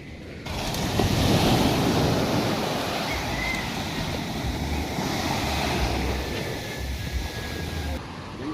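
Ocean surf breaking along a shoreline, a steady broadband wash with heavy wind buffeting the microphone throughout; faint voices may be mixed in underneath.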